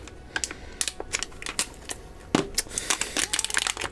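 A vacuum sealer bag being ripped by hand, giving a run of close, crinkly tearing and crackling bursts of plastic with irregular rhythm, building denser toward the end, with no voices.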